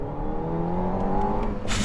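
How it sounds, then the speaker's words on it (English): Alpine A110 with a 1.8-litre engine, its exhaust droning steadily with a continuous engine note, building slightly near the end with a few brief crackles and a short burst. "Listen to that exhaust farting away"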